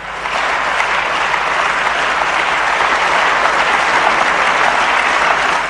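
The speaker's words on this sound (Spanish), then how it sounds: "Aplausos muy sólidos en su bancada" Parliamentary benches break into solid applause, a dense, even wash of many clapping hands that holds steady and alone throughout.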